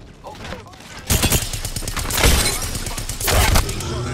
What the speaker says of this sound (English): Smart bullets hunting foes.